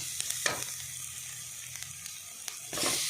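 Masala for Kundapura chicken sukka fries in a pan, a quiet steady sizzle broken by light clicks and scrapes of stirring, swelling louder at the end.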